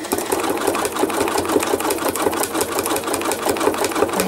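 A sewing machine stitches thread art in a rapid, even mechanical patter, running close and continuously with no pause.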